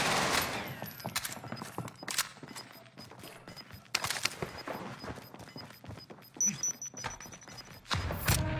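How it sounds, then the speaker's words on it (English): Video game gunfire in bursts, with scattered sharp shots and a few rapid volleys spread across the stretch, moderately loud against a busy game background with no clear talk. "Shooting the cunt way before he shot me and somehow he got me"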